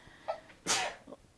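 A single sharp sneeze bursts out close and loud, preceded by a quick inhale and trailed by a soft breath.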